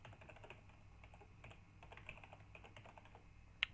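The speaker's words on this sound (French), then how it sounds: "je vais bien la retaper au clavier" Rapid, steady typing on a computer keyboard while an email address is entered, close and fairly quiet, a continuous patter of small key clicks over a low hum, ending with one sharper louder keystroke.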